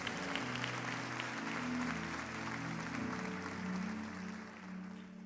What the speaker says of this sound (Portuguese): dá um amém bem forte aí, e aplaude a Jesus.